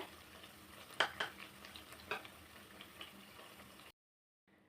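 Bread fries in a pan over a medium flame with a soft sizzle broken by several clinks and scrapes of a utensil. It stops abruptly near the end.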